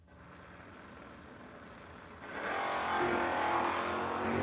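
A 1978 Dodge Aspen with a third-generation Hemi at a no-box drag race, its engine note building into a loud, rising roar over steady background noise after a quieter start.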